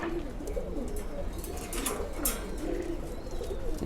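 Stock pigeons kept in a cage give soft, low cooing calls amid a busy murmur of birds, steady and close throughout.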